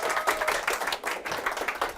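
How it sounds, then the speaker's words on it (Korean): An audience at a live book forum talk applauds to welcome a lecturer, a dense, continuous patter of many hands clapping from across the room for a couple of seconds, with no talking. "박수 부탁드리겠습니다."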